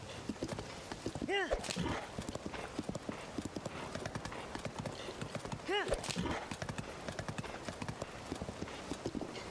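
Horse hooves gallop in Zelda: Tears of the Kingdom as fast, steady clip-clop beats throughout, with two short whinnies and someone talking over the game sounds.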